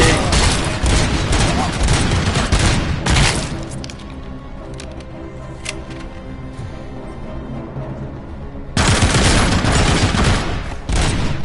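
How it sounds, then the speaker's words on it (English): Light machine gun fire in the video game Robocop: Rogue City comes in two loud, sustained rattling bursts, the first about three seconds long and the second about three seconds, separated by a quieter stretch of background game ambience. "They have an LMG."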